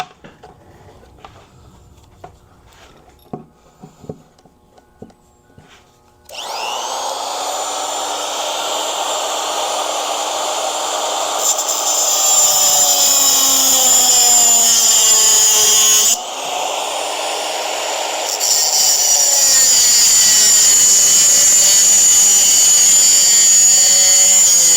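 A cut-off tool bites into material while building a shelter for a wedge top camper, a loud high whine that starts abruptly after quiet handling noises, shifts in pitch under load, briefly drops out and then resumes at full strength.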